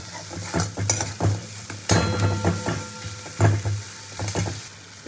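Milk poured into sizzling fried masala for a prawn curry: steady frying hiss runs throughout, broken by repeated clanks and scrapes of a spoon stirring in the pan.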